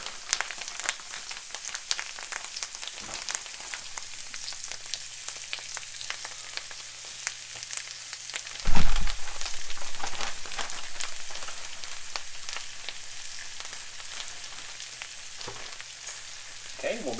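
Wild poke greens coated in flour and cornmeal fry in hot oil with a steady, bright crackling sizzle throughout, swelling briefly louder midway when more is stirred or added, then settling back to an even hiss.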